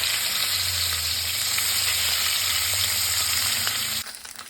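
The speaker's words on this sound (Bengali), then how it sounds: "তেলটা আমার গরম হয়ে গেছে, আমি ওর মাছগুলো ছেড়ে দিই।" Shing fish sizzle loudly in hot mustard oil, a dense, steady crackling fry that continues without talk before abruptly dropping away near the end.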